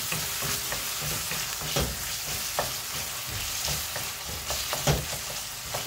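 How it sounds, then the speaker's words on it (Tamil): Tomatoes sautéing in a pan for vendakkai puli kulambu, a steady close sizzle with intermittent scraping stir strokes throughout, no voices over it. "அதுவும் வதங்கட்டும்."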